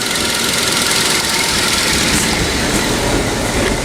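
A 1956 Lincoln Premiere engine, converted to Holley Sniper EFI, accelerates with a loud, steady, close-up roar that holds at an even level throughout.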